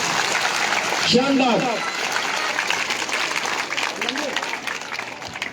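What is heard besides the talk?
audience clapping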